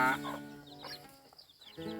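Farmyard chickens cluck and call in a few short bursts, moderately close and fairly quiet, with gaps of near silence between them.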